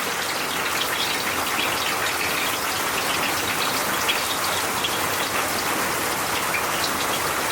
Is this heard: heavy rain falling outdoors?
yes